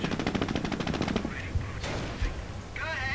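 Rapid machine-gun bursts in the WWII strategy game Company of Heroes, a quick steady rattle of shots followed by a couple of heavier thumps, with brief voices between.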